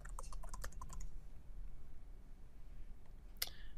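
Fingers tap out a username on a computer keyboard, a quick burst of close, crisp keystrokes that trails off into quiet room hiss, followed by one sharp click near the end.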